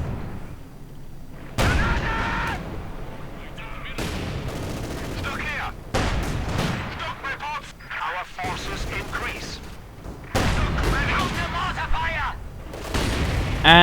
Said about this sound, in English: And a bit of mortar fire going in from here.